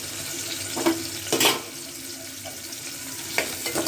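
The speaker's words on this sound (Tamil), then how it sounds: "இப்போ கொஞ்ச நேரம் வதங்கணுங்க" Small onions sautéing in hot oil for a mutton curry, a steady low sizzle with a few brief stirring scrapes and clinks, close and moderately quiet, no talking.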